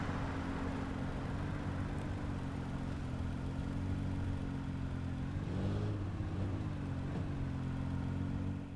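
A Nissan GT-R engine in the 2015 Need for Speed video game drones steadily at high revs throughout, with a brief pitch dip and swell midway, loud and close with no talk.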